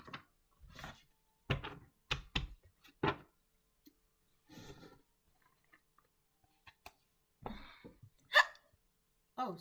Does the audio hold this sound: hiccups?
yes